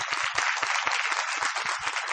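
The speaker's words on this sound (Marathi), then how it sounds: "मंडळी टाळ्या." An audience claps together in a hall, a brisk crackle of hands that holds steady and fairly soft for about two seconds with no voices over it.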